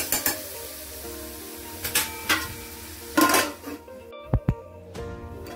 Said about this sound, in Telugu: వేసుకొని ఒక్కసారి కలపాలి. కలిపి మూత పెట్టేసుకోవాలి.